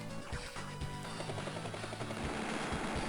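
A battlecopter attacks an enemy helicopter in the Advance Wars video game, with a whirring rotor-like rumble overlaid by rapid bursts of gunfire, continuous and loud with no talk.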